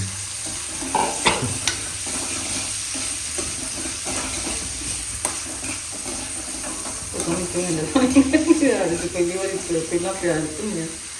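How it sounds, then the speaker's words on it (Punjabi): Onions fry in hot oil in a pan for an eggplant dish, a steady sizzling hiss with occasional utensil clinks, while a person talks over it in the latter half. "ਤੇਲ ਫਿਰ ਮਿਰਚ ਨੂੰ ਪਾ ਦਾਂਗੇ ਪਹਿਲਾਂ ਆਪਾਂ ਪਿਆਜ਼ ਭੁੰਨਾਂਗੇ ਜੀ"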